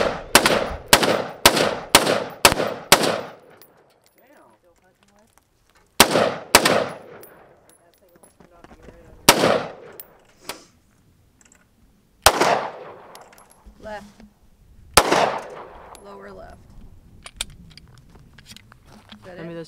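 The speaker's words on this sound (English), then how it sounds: "With Kevin shooting an AR-15" AR-15 rifle shots ring out outdoors, first a rapid string of about six sharp cracks, then paired and single shots spaced several seconds apart, each loud and abrupt with a short echoing tail.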